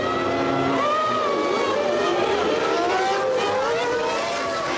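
Formula 1 cars of the 1997 season accelerating away from the race start, a loud wall of high-pitched engines with rising and overlapping revving whines from several cars at once, steady and close with no talking.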